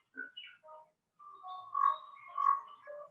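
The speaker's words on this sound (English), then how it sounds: "I can hear the bird's ambience" Bird calls and chirps drift in near a window inside a virtual architectural walkthrough, a few short tweets followed by longer warbling phrases at moderate, slightly distant level with no talk.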